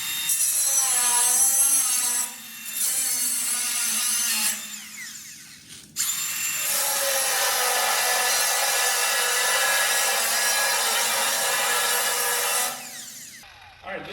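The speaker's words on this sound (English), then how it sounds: "This is a cutoff wheel. Always use a ferrous blade for steel, non-ferrous for aluminum." An abrasive cutoff wheel slices through steel during a hinge-style mulch mate installation, a loud continuous grinding whine in two long bursts separated by a short pause, with no talking.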